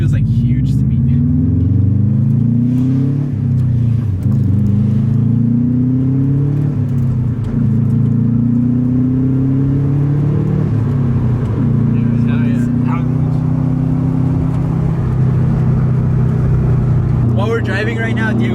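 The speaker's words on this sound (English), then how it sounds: "While we're driving right now, Diego brought up downshifting and rev match" Engine hum and road rumble from inside a car being driven, with rising and falling revs as it shifts, steady and loud throughout, with people talking over it.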